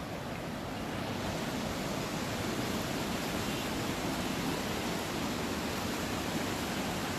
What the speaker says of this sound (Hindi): जो ब्यास है अभी सामान्य तौर पर यहाँ पर बह रही है